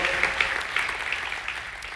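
A church congregation applauding during a Spanish-language Sunday service, a brief burst of fairly soft, diffuse clapping from a crowd heard for about two seconds.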